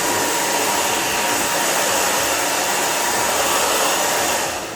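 A hair dryer blows steadily on short curly hair, a loud, close, continuous whooshing roar that holds constant before easing off at the very end.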